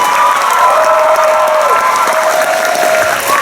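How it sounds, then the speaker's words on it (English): A large audience at a Star Wars Weekends event at Walt Disney World applauds and cheers for the backstage crew, dense loud clapping with whoops and shouts running throughout. "a huge round of applause for all of these people backstage that you don't see"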